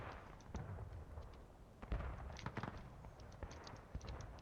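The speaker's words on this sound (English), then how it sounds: "Artillery is doing some work." Artillery fire in a Civil War battle game event: several booming cannon shots, some distant and some closer, scattered irregularly over a low rumbling backdrop.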